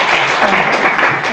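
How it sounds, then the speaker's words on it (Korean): Brief burst of dense audience applause at a seminar gathering, steady and fairly loud throughout, with no clear voice over it. "박수 한번 주세요"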